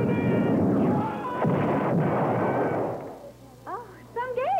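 A Star Wars arcade video game produces dense blasting laser fire and explosions in a loud continuous barrage that fades near the end into chirping electronic tones.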